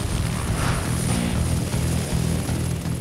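Helicopter on a wildfire-fighting crew's training site in Provence, a loud, close, steady engine roar with rhythmic low rotor thumping, filling the whole stretch.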